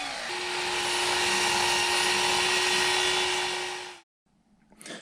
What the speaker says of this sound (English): At the miter saw, I cut both verticals to the lines that I'd drawn.